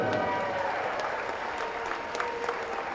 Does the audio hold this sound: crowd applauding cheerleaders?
yes